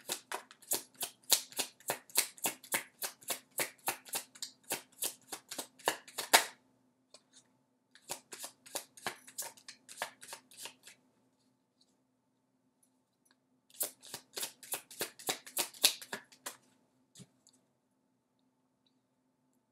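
Tarot cards being shuffled by hand: quick rhythmic riffling clicks in three separate runs with quiet gaps between, close and soft, no voices.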